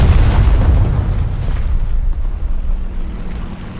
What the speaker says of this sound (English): that's how the 50 cal works